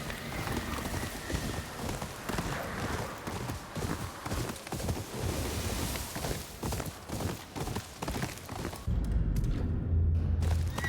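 Horse hooves clip-clop steadily in the Ghost of Yotei video game, a continuous walking rhythm of close, even thuds under ambient game sound.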